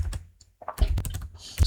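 Close computer keyboard typing, quick irregular bursts of key clicks with a short pause partway through, set against a quiet room while a word is entered into a Jira web page.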